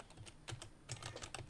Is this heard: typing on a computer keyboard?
yes